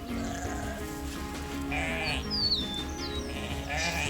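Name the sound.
ewe bleating, calling for her lambs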